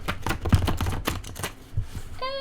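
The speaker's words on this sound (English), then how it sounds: "This deck is incredibly hard to shuffle." Tarot cards being shuffled, a rapid series of crisp riffling snaps and flicks close up, ending with a brief tonal sound.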